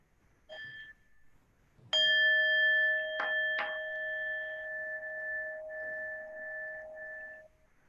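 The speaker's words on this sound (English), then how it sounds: "We'll have a sound of the bell" A single bell is struck to close a meeting, giving one clear ding that rings on with a steady, slowly fading tone for several seconds in an otherwise quiet room.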